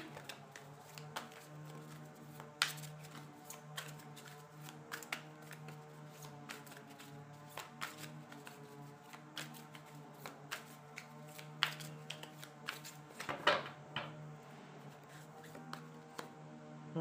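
Tarot cards shuffled continuously for the whole stretch, a steady close riffling patter with frequent sharp slaps and flicks, over a low constant background hum and no talk.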